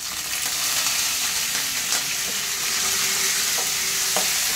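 Dried red chilli and curry leaves hit hot oil in a tempering with chana dal and urad dal, giving a loud, steady sizzle with occasional stirring clicks throughout and no talking.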